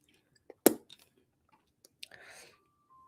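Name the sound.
chewing cough drops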